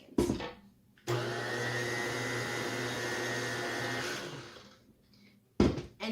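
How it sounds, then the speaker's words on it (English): An electric mixer whirs through cake batter for cake pops in one steady, close burst of about three seconds, starting abruptly and winding down, with brief handling sounds before and after. "And give it one final mix, about 5 seconds."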